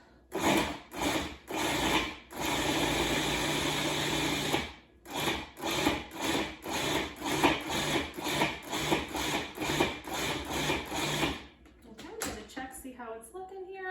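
A food processor chops broccoli in a series of loud pulses. Each whirring burst starts and stops in a steady rhythm, and a longer run comes early. A voice can be heard faintly near the end.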